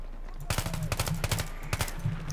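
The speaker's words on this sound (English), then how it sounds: "oh my god, stop shooting at me!" Rapid automatic gunfire from the video game Battlefield 3, a dense string of close, loud shots in quick bursts over a low steady hum.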